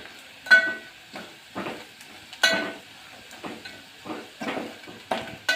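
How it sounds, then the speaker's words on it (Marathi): Masala sizzles and sautés in hot oil in a pan as a spoon stirs it in a few scraping strokes, a steady soft hiss under each close, distinct stir. "तेल सुटेपर्यंत मसाला परतून घेऊ."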